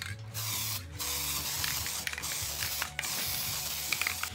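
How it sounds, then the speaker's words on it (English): Hissing bursts of spray adhesive come in short repeated blasts, close and loud, mixed with mechanical rattling, while gluing 2-inch foam to a backer board. "attach our 2-inch foam to our backer board using spray adhesive"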